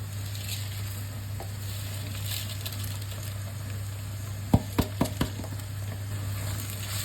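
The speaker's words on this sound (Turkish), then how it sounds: "Pirinçleri de karıştırıyorum." Washed, soaked rice is stirred into frying onions, garlic and tomato paste for a dry dolma filling. A soft continuous sizzle runs under a low hum, and a few sharp spoon clicks come in a quick cluster.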